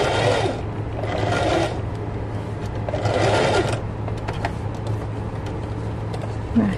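Sewing machine stitching a mermaid tail skirt, loud close bursts of rapid stitching in two main runs with quieter pauses and handling noise between them.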